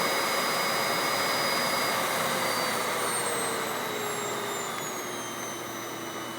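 A Hoover WindTunnel Anniversary Edition S3670 canister vacuum roars steadily at full power, a loud, continuous whine with a slight pitch drift near the end; no voices.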